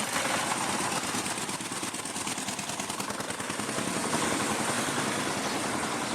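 Engines of vehicles bringing vegetables along an empty road at dawn run steadily, a continuous close rumble and drone holding at even loudness throughout, with no talking.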